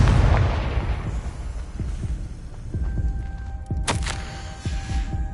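Confringo fire spell cast in Hogwarts Legacy, with low booming thumps that repeat at an uneven, throbbing pace under a constant game hum and one bright, sharp burst partway through.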